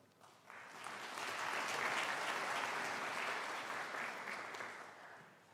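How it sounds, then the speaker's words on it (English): Audience at a University of South Africa graduation ceremony applauding a professor's address, a broad wash of many clapping hands that swells quickly, holds strong, then slowly tapers off. "can you join me in applauding Prof. Matley for his address to all of us?"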